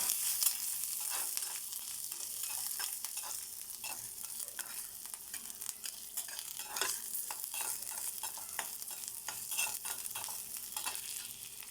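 Ginger pieces and other ingredients frying in a pan for a ridge gourd sesame chutney: a faint, continuous sizzle dotted with soft, frequent stirring scrapes, no speech.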